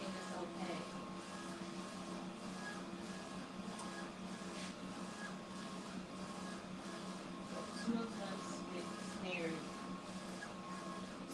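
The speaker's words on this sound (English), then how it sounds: "this printer is a Pro Colored dual head printer, and there's a shaker and oven there also" Pro Colored dual-head DTF printer running, a steady mechanical hum and whir with faint tonal whines and occasional clicks from the print heads, continuous and fairly quiet, with no talking.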